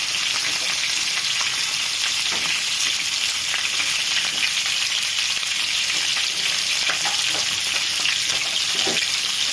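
Oxtail lightly seared on all sides in a hot pan gives a loud, continuous close sizzle with crackling spatter and occasional stirring throughout.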